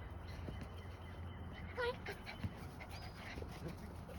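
Boykin spaniel dogs and puppies pant quietly outdoors in short breathy bursts, with a brief whimper and a distant bird call now and then.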